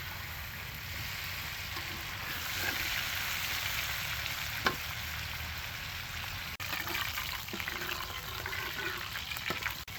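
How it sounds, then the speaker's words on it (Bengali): Chicken pieces fry on a tawa, giving a steady broad sizzle that continues throughout, with a few faint clicks and one brief sharper knock midway. "পরে আবার তাওয়াতে ভাজা শুরু করে দিয়েছি"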